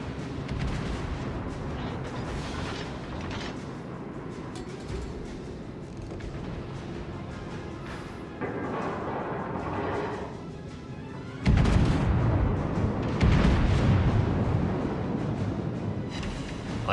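Deep booming naval gunfire from the battleship South Carolina in World of Warships, Solomon Islands map, with low rolling blasts and heavier concussive salvos toward the end over a steady ambient rumble.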